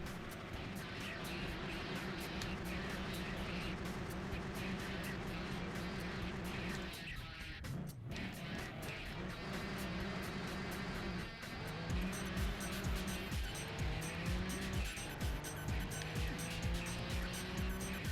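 A race car in Gran Turismo 2 drones at high revs with tire squeal, a steady game engine tone that drops with a brief crash-like break midway, then climbs again with shifting pitch sweeps.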